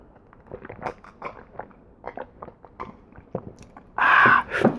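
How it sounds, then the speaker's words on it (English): Soft sips and swallows come in a string of small, close mouth sounds, followed by a louder burst of breath or clatter near the end. "I have to take a sip of water."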